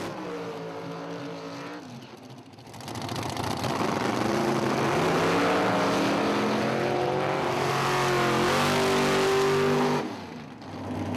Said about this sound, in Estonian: Lõpuks jõudiski kätte kaua oodatud hetk, kui esimene Outlaw paar sai loa burnoudiks.